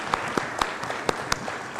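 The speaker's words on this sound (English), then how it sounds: "Let's give a round of applause to Kaleem." Audience applause at a sustainable banking conference, a short patch of scattered claps with a few sharper, distinct hits standing out.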